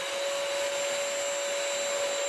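A Bissell Crosswave wet-dry vacuum floor cleaner runs steadily close by, giving a loud, constant motor whine and airflow hiss with no break or voices.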